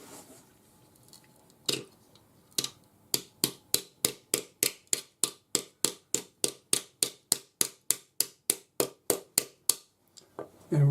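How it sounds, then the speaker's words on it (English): A plastic tapered hammer taps a metal leaf bangle into a V bend, a few scattered knocks giving way to a steady run of about two dozen crisp, evenly spaced close strikes. "Now I'm going to use a plastic tapered hammer."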